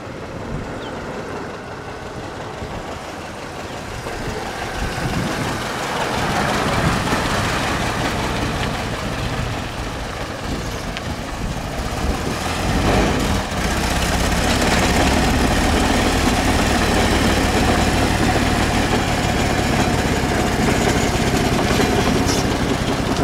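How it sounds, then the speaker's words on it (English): A 1907 Stevens-Duryea Model U automobile engine runs nearby, a steady broadband mechanical rumble that builds after a few seconds and holds through the stretch, with faint voices now and then. "we will take him and show him what the engine sounds like"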